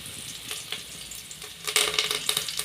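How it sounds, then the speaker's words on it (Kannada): Garlic and curry leaves frying in a hot pan, a steady close sizzle with occasional stirring, growing louder and more crackly toward the end. "ಸ್ವಲ್ಪ ಫ್ರೈ ಮಾಡ್ಕೊಳ್ಳೋಣ"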